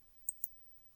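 Two quick, faint computer mouse clicks a fraction of a second apart, close by in an otherwise quiet room.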